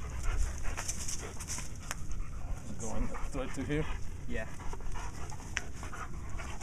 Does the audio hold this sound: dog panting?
yes